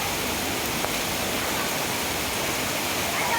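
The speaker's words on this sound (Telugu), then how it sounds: "ఈ వర్షానికి మాకు రోడ్డు పైన నీళ్ళు అయితే ఇలా వస్తున్నాయండి, కాలువలాగా" Heavy rainwater rushes along a road like a canal during a monsoon downpour, a loud constant broadband roar of flowing water and rain, close and unbroken.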